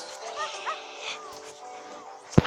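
Two dogs at a dog hotel make faint whimpers and short yips under someone speaking, ending with a sharp, louder bark.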